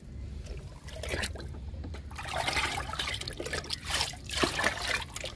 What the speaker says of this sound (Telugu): ఇప్పుడు లిక్విడ్ ఇచ్చేద్దాము బీరపాదుకి.